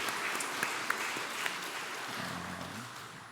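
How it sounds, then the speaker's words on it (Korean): A church congregation claps together for the choir in a steady, dense burst of applause that carries on throughout, with no voices over it. "우리 성가대를 위해서 우리 찬양으로 우리 감사함으로 박수 쳐주겠습니다."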